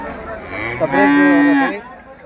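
A Holstein Friesian cow at a cattle market in Ranebennur gives one loud, close moo lasting about a second, with a low rising-then-steady tone.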